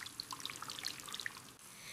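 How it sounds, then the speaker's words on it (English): Cold clear water trickles and drips while a tomato is gently rubbed clean, scattered small bright splashes over a soft continuous flow, quiet and close, ending in a smoother hiss. "Wash the tomato gently"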